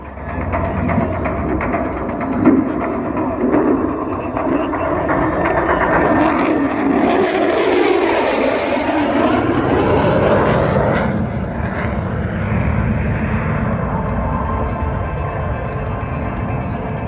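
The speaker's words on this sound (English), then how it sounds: "now this high-speed fast wings level, about 200 feet and 540 knots, or 990 kilometres an hour" An F-35 fighter jet makes a high-speed, wings-level low pass at about 200 feet during an airshow at Warnervale, its loud engine roar swelling and sweeping past before fading into a sustained rumble.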